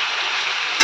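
Potatoes sizzle and fry in a pan during home cooking, a steady hiss that holds evenly before a brief louder clatter of stirring at the very end.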